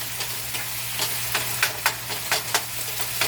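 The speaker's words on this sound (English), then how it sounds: "I want to cook the flavor into my meat." Beef sizzles steadily in a hot pan for a Szechuan beef dish while a utensil scrapes and stirs it in quick repeated strokes, close and clear, with no talking.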